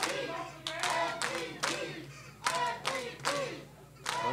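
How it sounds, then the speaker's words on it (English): Wrestling crowd at an FGW Shockwave show claps in sharp rhythmic bursts with shouts and cheers rising between them, while a commentator talks over the noise. "the crowd clearly are glad to see MVP."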